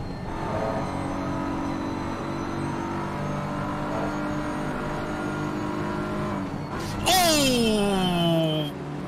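BMW GT race cars battle at Silverstone, engines droning steadily before one car roars close by with a sharp rising-then-falling whine near the end, all under race commentary.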